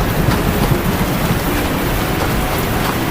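Steady, dense rain pours down in an animated children's story about a tiny turtle, a loud, even hiss with a low rumble beneath it and no voices.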